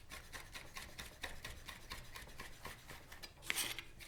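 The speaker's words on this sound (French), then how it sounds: "effeuillez les épis de romarin, puis les concassez avec un gros couteau" Rosemary leaves are chopped with a large knife, a quick run of faint, regular blade taps on a board, close by and steady, ending in a brighter scrape near the end.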